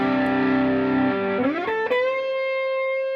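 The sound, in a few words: electric guitar through Big Joe Classic Tube pedal, more gain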